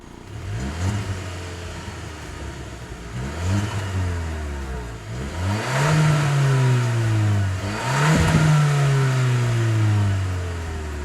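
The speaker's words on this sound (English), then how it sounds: "the biggest change here is the dual tip exhaust, which not just looks cool but also sounds different" A Hyundai Creta N Line's engine revs up repeatedly through its dual-tip exhaust, each rise building to a throaty roar before dropping back, heard up close and loud.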